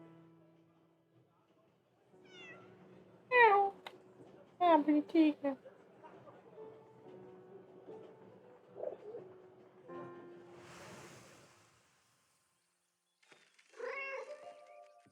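A cat meows in the game 11-11 Memories Retold; it belongs to a German man. There are a few short, close meows, with a soft chirpy cry near the end, while a person talks over the game sounds.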